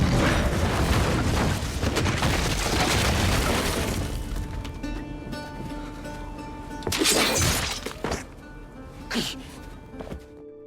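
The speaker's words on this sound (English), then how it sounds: "Hearing an explosion coming from the cave, Tatsumi realize" A cinematic explosion rips through a cave, opening with a long dense roaring blast that fades into rumbling debris, followed by a few sharp crashing and shattering impacts as rubble falls.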